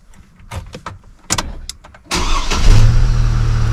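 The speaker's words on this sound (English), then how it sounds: "I'm going to start up the vehicle." A 2004 Chevy Colorado pickup engine cranks and catches at about two seconds, then settles into a steady, loud idle with a low rumble, following a few scattered clicks and knocks before the start.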